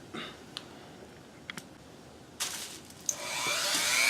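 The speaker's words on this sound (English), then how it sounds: "just remove that center bar there, and I just use my small mini grinder to do this" A small mini grinder spins up against the center bar of a Singer 237 straight-stitch needle plate, a few faint clicks first, then a rising, loud whirring whine close by.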